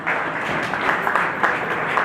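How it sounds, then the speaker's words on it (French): An audience at an academic closing ceremony applauds the prime minister, a soft, continuous patter of many hands, somewhat distant and muffled, lasting the whole moment. "Applaudissez-le s'il vous plaît"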